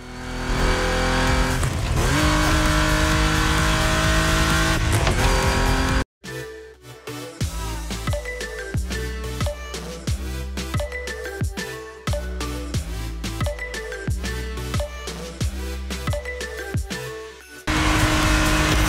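A Porsche race car in The Crew Motorfest roars at full throttle, then after a brief cut drops into a rapid run of revving upshifts and surges over a low rumble, loud and close throughout.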